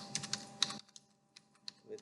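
Someone types on a computer keyboard, opening with a quick, faint run of keystrokes before thinning out into a few scattered taps in a quiet room.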